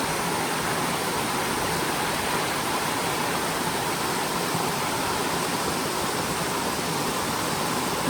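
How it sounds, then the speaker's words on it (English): Happy Creek Falls, a waterfall in North Cascades National Park, roars close and loud as a dense, unbroken rush of falling water, steady from start to end. "This is Happy Creek Falls."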